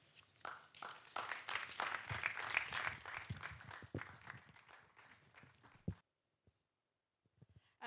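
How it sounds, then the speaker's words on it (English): Audience applause at an African financing and innovation conference session, a fairly quiet, even patter of many hands lasting about six seconds, then cutting off into near silence broken by faint bumps. "Another round of applause"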